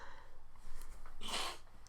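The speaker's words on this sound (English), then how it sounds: "Apologies for my sniffing." A quick, breathy sniff through the nose, close and fairly soft, rising out of a low background hum.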